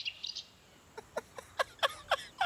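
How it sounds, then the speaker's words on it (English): Birds chirp in a scene from the 2017 horror film Creep 2, a quick run of about seven bright, evenly spaced tweets following a brief higher trill, fairly close and clear. "Goddamn birds. Shut the fuck up, nature."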